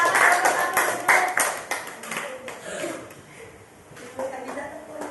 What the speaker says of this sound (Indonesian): Mari kita beri aplaus dulu untuk kelompok 1.